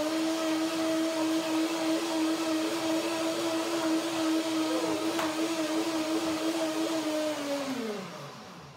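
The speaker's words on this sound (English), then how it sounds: "And a second blending gets the full creaminess after soaking all the cashews." A blender whirring through soaked cashew and banana cream, a loud, steady motor drone with a constant pitch that holds for several seconds before winding down at the end.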